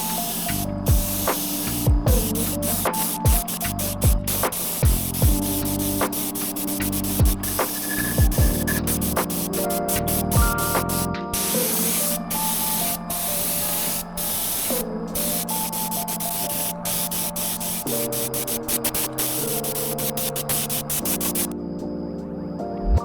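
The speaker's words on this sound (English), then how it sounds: "I hit the bait with a quick coat of white primer, and then started off with some yellow ochre." White primer is sprayed onto a wooden fishing glide bait in a continuous hissing spray broken into short bursts, heard close up against steady background music.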